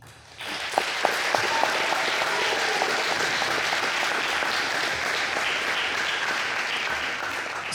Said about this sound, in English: round of applause for the coaches that coach you